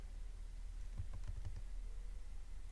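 Numbers are typed on a computer keyboard during drafting in ArchiCAD software, heard as a quick cluster of faint, close key taps in a quiet room, with a lone click trailing after.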